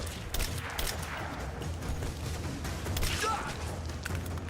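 Gunfire erupts in the Rise of the Tomb Raider video game, scattered shots and thuds cracking over a busy combat background.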